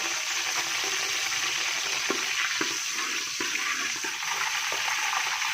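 Cloves, cardamom and cumin frying in hot oil in a pan for a village-style beef paya, a continuous close sizzle with a few soft stirring knocks and scrapes and no talk.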